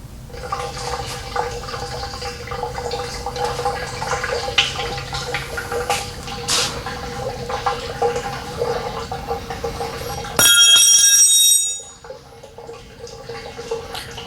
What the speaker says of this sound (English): I am also going to catch some of this oil on as it first comes out.